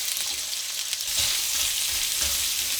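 Onions stir-fry in a wok for yakisoba, a steady, loud, close sizzle with occasional soft scrapes of stirring running underneath throughout.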